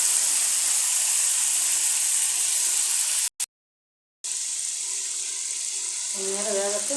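Water added to sliced potatoes frying in a hot pan sends up a loud, steady hiss and sizzle that runs continuously, breaks off for a moment, then resumes with a voice speaking over it near the end.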